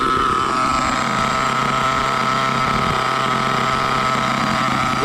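An HPI Trophy Truggy 4.6 (.28) nitro engine idles close by, a loud, continuous buzzing drone that stays steady throughout with no talking.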